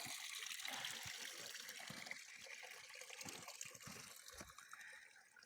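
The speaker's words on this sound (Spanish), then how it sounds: "Mirad, una fuente, aquí no hay problema de que no encontréis agua." Spring fountain on a mountain trail in Asturias gives a steady close water trickle and splash, continuous and fairly loud throughout with no talking over it.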